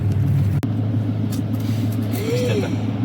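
Cars drive off a Germany–Denmark ferry past a parked camper bus, giving a steady nearby engine rumble with a sharp thump early on and a brief rising whine later, while faint voices murmur.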